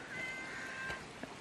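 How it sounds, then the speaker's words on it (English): A house cat meows in a drawn-out, plaintive cry that rises and falls and lasts about a second, fairly faint indoors, followed by a short extra chirp. "That's my cat."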